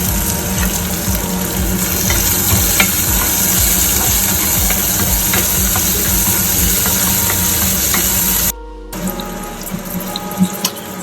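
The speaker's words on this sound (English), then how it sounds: "adding green chili" Green chili sizzling in hot oil in a pan while egg bhurji is cooked, a loud, steady, close frying hiss that runs without pause and then briefly cuts out near the end.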